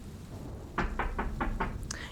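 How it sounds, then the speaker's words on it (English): Five evenly spaced knocks land on a door in a quiet room, fairly close and moderately loud, with a soft faint sound just after. "You're able to hear a knock on the door."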